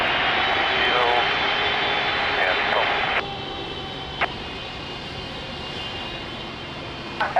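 Broadband jet roar of an Angola Airlines Boeing 777 taking off at Lisbon Airport in the rain, loud and steady, then dropping in level partway through as the aircraft climbs away, with brief clicks over the fading rumble.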